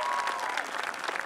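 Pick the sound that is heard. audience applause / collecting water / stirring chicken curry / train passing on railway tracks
audience applause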